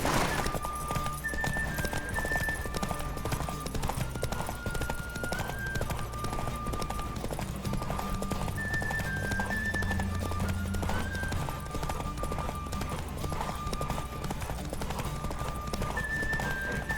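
Rapid, steady hoofbeats of a galloping horse in a race in The Witcher 3 run continuously throughout, with sustained musical tones drifting above.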